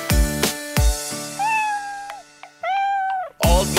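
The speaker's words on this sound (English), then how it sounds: "No, it's just a kitten's mew." A kitten mews in a children's nursery rhyme song, several drawn-out, rising and falling meows between sharp percussive hits of the music.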